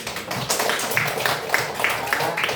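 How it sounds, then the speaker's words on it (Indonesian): Students in a classroom clap their hands in a busy, uneven patter of close claps that continues steadily throughout. "silakan tepuk tangan"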